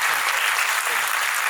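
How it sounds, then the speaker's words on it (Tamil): A full audience at a music academy's annual performance breaks into dense, sustained applause, a thick wash of clapping that stays loud and even throughout the short stretch. "அவர்கள் அனைவருக்கும் உங்கள் கரகோஷம் தான் ஆதரவு"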